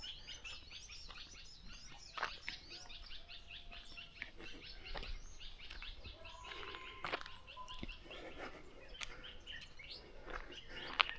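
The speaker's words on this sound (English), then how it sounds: "Let's listen to the birds now, guys." Several birds chirping and singing at once, sharp repeated calls near and far over a quiet outdoor background, with occasional faint rustles.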